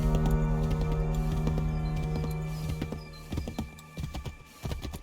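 Horse hooves from an Assassin's Creed 3 video game clatter in an irregular clip-clop over a steady music bed, growing choppier toward the end with no one speaking.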